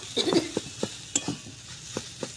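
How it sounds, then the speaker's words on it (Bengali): Boiled moong dal filling for Bengali-style kachori being dry-fried and stirred in a wok, with a soft sizzle under a series of distinct spatula scrapes and taps at a steady, unhurried pace, close and fairly loud. "এবার ভালো করে ভেজে নেব"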